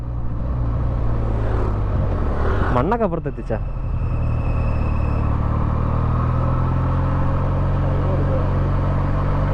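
A Benelli TNT 300 motorcycle engine drones steadily and loudly throughout the ride, with a brief voice speaking and a short warbling tone partway through.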